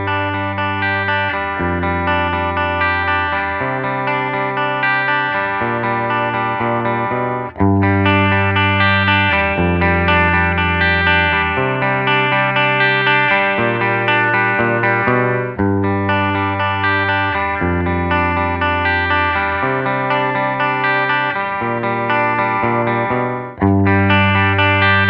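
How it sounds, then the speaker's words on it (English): An electric guitar in humbucker mode plays a continuous chord progression on a clean amp, notes ringing and sustaining with steady loudness and no talking. "we're gonna use a clean amp to see what the clean tones sound like"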